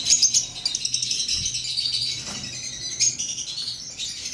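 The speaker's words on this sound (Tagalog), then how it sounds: "nandito tayo sa ibunan natin sa mga lovebirds natin mga kalonger." Lovebirds in a backyard aviary chirp and tweet continuously, a dense, bright chatter of overlapping calls heard up close.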